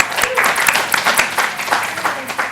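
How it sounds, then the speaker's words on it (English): Audience applause for a speaker at a talk on the neuroscience of online communication, a short burst of close, uneven clapping with a faint voice mixed in. "round of applause."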